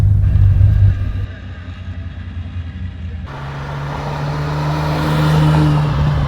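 A 1982 Ferrari 400i V12 with a five-speed manual cranks and catches, then settles into a steady, close-miked idle that swells slightly louder toward the end.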